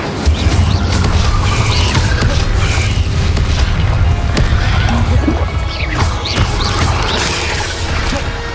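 Incendio fire spell blasts in the Hogwarts Legacy video game on PC, repeated loud crashing bursts and whacks in quick succession over a constant roaring, rumbling combat din.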